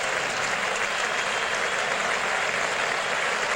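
Cricket crowd at Eden Park, Auckland, applauding Richard Hadlee at the end of a Test innings against Australia, a steady, dense wash of clapping and cheering that holds evenly throughout with no break.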